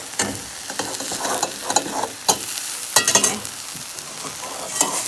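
Eggs for an omelette fry in a pan, giving a continuous close sizzle with scattered crackles and a few scraping stirs throughout.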